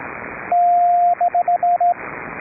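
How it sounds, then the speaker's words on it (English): Morse code CW tone keyed over a shortwave amateur radio public service net on 3729 kHz, one long steady dash followed by a run of short evenly spaced beeps, loud and clear above a hissy band-noise background. "Nice CW there, John."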